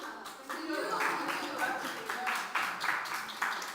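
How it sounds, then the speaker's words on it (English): A round of applause rings out at the close of an equity roundtable event, steady clapping from a group sustained for several seconds, with voices mixed in. "So another round of applause, please, to yourselves, to the facilitators"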